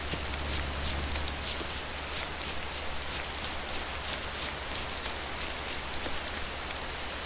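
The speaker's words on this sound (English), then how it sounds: "But by God, is it ever raining." Steady, dense rain falls in the video game DayZ, a constant hiss of drops hitting surfaces close by for the whole stretch.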